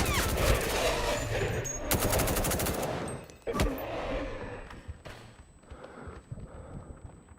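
Gunfire in the video game Active Matter: rapid automatic bursts rattle close and loud, then give way to scattered single shots and fainter trailing pops against a busy game background.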